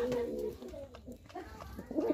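A Giribaz pigeon coos in low, rolling calls near the start and again at the end, with quieter gaps and faint background murmur between.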